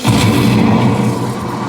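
A cannon at Tokyo DisneySea fires a single loud, booming blast that rolls out into a rumbling, decaying roar with no talk over it.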